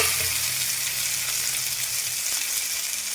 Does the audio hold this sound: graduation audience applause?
no